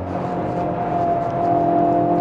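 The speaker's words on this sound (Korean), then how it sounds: "여기서도 탈출할 때 2단에서 스로틀을 밟아버리니까 출력이 엄청나게 나오면서" A Volkswagen Golf GTI accelerates hard in second gear on a corner exit, its engine a steady, close, continuous drone with a tonal whine that holds for the whole stretch, no talking over it.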